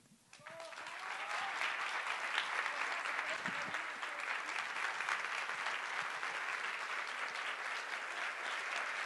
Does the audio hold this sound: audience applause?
yes